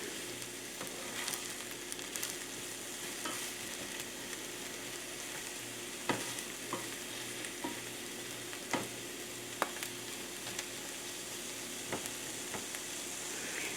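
Omelet ingredients being stirred in oil in a pan over medium-high heat, a continuous soft sizzle with occasional sharp scrapes and taps of the utensil, heard alone without talk.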